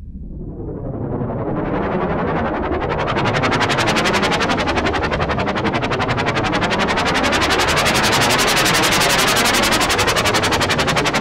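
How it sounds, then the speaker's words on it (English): A helicopter effect synthesized on an Arp Odyssey analog synthesizer, a loud, steady, rapidly pulsing noisy chop that swells in over the first few seconds and then holds, with no voices. "by manipulating the attack and release times, it kind of changes the choppiness of the helicopter blades"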